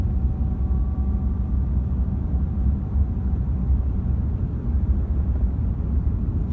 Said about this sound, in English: Accelerating lightly back to 70.